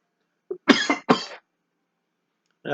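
A short burst of coughing from handling dusty old movie cases, three or four harsh coughs close to the mic, then quiet.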